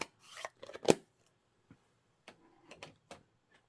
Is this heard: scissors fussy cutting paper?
yes